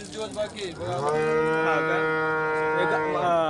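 A local village cow at a cattle market lets out a long, loud moo close by, sustained for a few seconds after some brief background noise.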